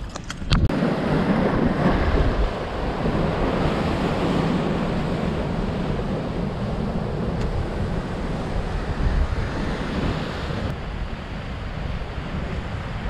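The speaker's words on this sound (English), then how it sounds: "enjoy the sound of the water, sound of the ocean" Ocean surf washes against coastal rocks where anglers fish, a steady, full roar of water and wind noise, with a few sharp clicks at the start and no speech.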